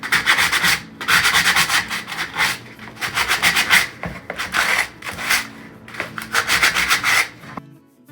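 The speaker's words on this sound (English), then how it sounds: "I'm just going to take a little sandpaper to it and rough it up" Sandpaper roughing up the dry paint on a thrift store home decor piece, a series of brisk rasping strokes in bursts with short pauses, close and clear, with no talk.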